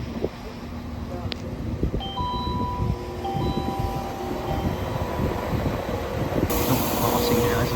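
A train service departs Deganwy railway station on a dark evening beside the water, a steady low rumble and rail noise running throughout with faint tonal whines and a brighter hiss near the end.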